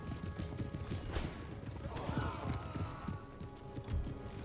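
Cavalry horses advance across an Empire: Total War battlefield, a faint steady patter of hooves and jangling gear under distant battle noise, with a brief whinny-like call midway.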